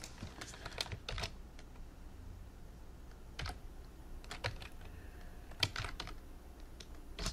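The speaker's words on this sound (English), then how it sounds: "Let me type it in the chat." Quiet clatter of typing on a computer keyboard, irregular bursts of light key taps with short pauses, close and soft against a faint room hum.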